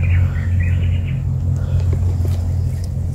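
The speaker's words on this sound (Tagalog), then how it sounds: "Ayan yung ibon mga tol." A bird chirps outdoors in a short burst of high, wavering calls during the first second, fairly faint beneath a loud, steady low rumble resembling a nearby engine or wind, with only sparse faint ticks afterward and no talking.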